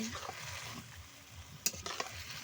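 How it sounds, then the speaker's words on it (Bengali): Marinated lote fish being stirred in hot oil in a pan, a soft, steady sizzle under scraping stirs, with a couple of sharper clinks near the end. "মাছটা তেলের মধ্যে ভালোভাবে মিক্সড করে নিচ্ছি"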